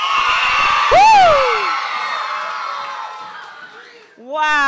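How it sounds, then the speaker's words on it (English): Primary school children cheer and whoop loudly together, with one high shrill voice rising above the crowd before the noise fades away, and a brief burst of cheering returns at the end. "Give me a cheer."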